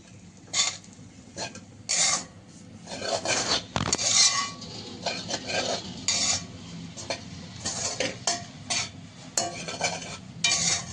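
Rice mixed by hand with spice masala and vegetable pieces for a child's lunch box, a run of close, uneven squelching and scraping bursts against a dish, with no talk.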